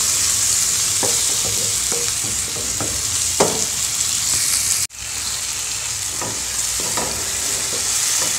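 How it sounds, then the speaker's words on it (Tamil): Onion and tomato sautéing in hot oil with mustard seeds and curry leaves for a pepper-ginger kuzhambu, a steady close sizzle broken by repeated scraping stirs, with a brief cut midway and no talking. "கடுகு பொரிஞ்சதும் கருவேப்பிலை, வெங்காயத்தை நல்லா வதக்குனதுமே தக்காளி போட்டுடலாம்."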